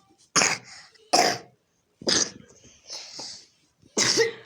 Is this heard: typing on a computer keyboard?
no